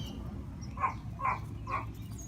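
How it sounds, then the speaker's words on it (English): Several dogs bark at a cat from some distance, three short muffled barks spaced about half a second apart over a steady low background hum. "My dogs are barking at a cat."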